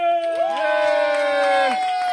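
Spectators cheer for a runner at a backyard sports event, Mt Reuil's first annual In the Yard Sports in 2023. A loud, sustained, tonal whoop rises and then slides downward, sounding close and lasting about two seconds.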